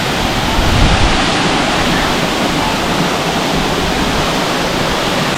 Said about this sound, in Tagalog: Scatter Falls.